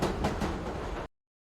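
A train in an action film rumbles and rattles with a steady rolling clatter for about a second, then cuts off abruptly into silence.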